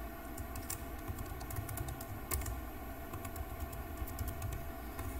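Rapid clicking of keys as a password is typed on a computer keyboard during an AWS account setup, an uneven run of light taps over a steady background hum, with no talking.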